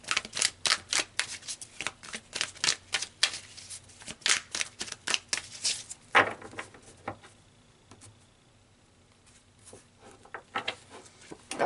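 Tarot cards are shuffled in quick, crisp riffling flutters and taps, a close rhythmic patter that slows to a few soft card sounds at the end.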